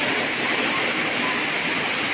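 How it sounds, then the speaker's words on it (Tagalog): Heavy rain pours steadily during a flood, a dense, continuous hiss of downpour filling the scene at close range with no gaps, loud and unbroken throughout. "Napakalakas ng ulan."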